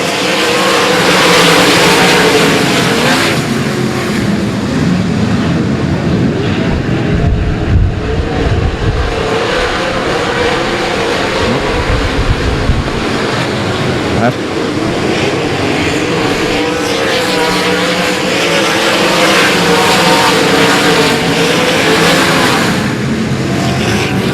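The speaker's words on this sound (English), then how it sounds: "It's time now to go green flag racing." Race cars roar together as green-flag racing starts at the Cotton Bowl Speedway, a dense, loud pack of engines revving steadily for the whole stretch, with the crowd of cars sustaining one continuous wall of sound.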